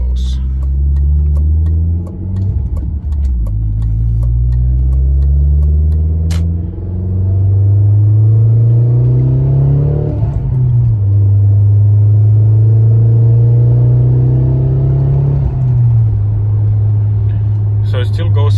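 A tuned Audi A4 B6 1.8T turbo pulls through repeated gear changes from inside the cabin, the engine drone rising steadily with each acceleration and then dropping at each shift, loud and continuous throughout.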